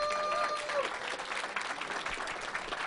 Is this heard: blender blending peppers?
no